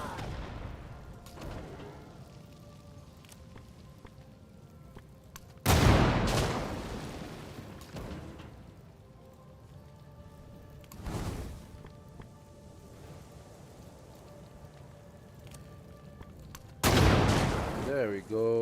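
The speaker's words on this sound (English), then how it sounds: "How about another barrage?" Artillery fires a barrage in a Civilization game, with three heavy booming blasts spaced several seconds apart, each rolling out into a rumble, while someone talks quietly between them.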